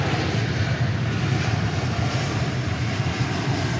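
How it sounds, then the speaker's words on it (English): An American Airlines passenger jet arriving from Louisville roars steadily and loudly close by, a broad continuous engine rumble with no voices over it. "here comes American Flight 1040 from Louisville"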